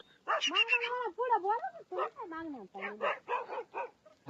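Dogs barking and yipping in quick bursts at a shepherds' hillside camp, with whining, high-pitched calls mixed in; loud and close, no clear talking.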